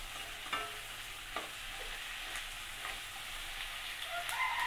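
Onion and capsicum fry in a pan over medium-high gas flame for chilli paneer, giving a steady low sizzle with a few soft stirring scrapes throughout, with nobody speaking.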